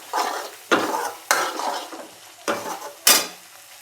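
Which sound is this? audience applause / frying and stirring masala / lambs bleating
frying and stirring masala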